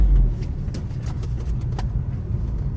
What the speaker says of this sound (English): Car making noise. You hear the noise?